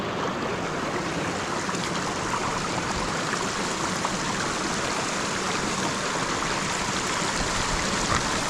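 Water rushes steadily over rocks in a Lake District stream, a constant, broadband babble, close and even throughout with no voices.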